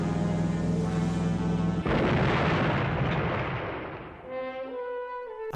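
A big explosion from the film Mad Max: a loud, sustained roaring blast with rumbling debris that slowly fades out beneath the film's tonal score.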